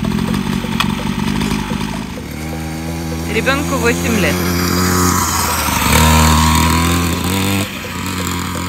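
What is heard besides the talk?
children's motorcycle engine running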